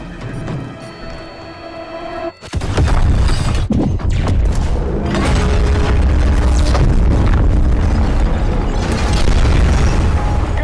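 A lit fuse charge blowing a door in Call of Duty: Modern Warfare: a quiet lead-in of music and faint sounds breaks into a sudden loud close blast, followed by sustained crashing debris and dense chaotic noise.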